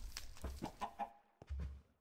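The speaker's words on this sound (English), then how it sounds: "This is a brown chicken." A brown chicken in the Minecraft video game gives a string of soft, close clucks in a loose rhythm, followed by a short pause and one last low cluck.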